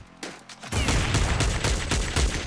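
A powerful gun in the shooter game Counter-Strike 1.6 fires a rapid, loud volley that starts after a short quiet lead-in and continues to the end.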